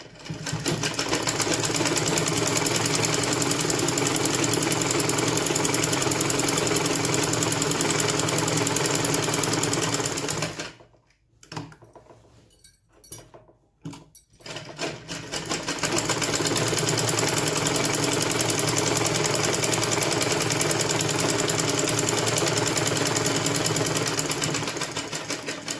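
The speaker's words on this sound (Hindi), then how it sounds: "तरह से सिलाई लगाकर आप चाहें तो एक सिलाई और लगा दें," A sewing machine stitches a dhoti pajama with a loud, steady mechanical whir. It stops for a few seconds in the middle, then resumes running continuously.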